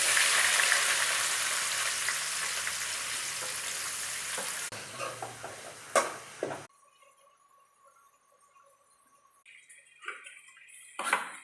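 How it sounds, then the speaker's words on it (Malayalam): Onions fry in a pan in a dense, hissing sizzle for about six seconds, broken by a few stirring clinks, before the kitchen falls nearly quiet apart from scattered light taps. "പിന്നെ വേണ്ട സവാള ഫ്രൈ ചെയ്യുക"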